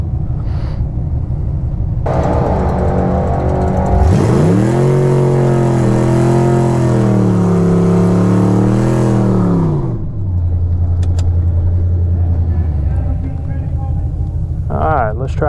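Race car at Virginia Motorsports Park on a hot day, a loud close engine idling, then revving hard through a full drag strip pass with rising and falling pitch before settling back to a steady idle.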